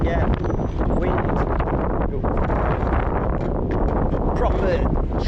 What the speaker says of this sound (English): I've definitely got a tailwind now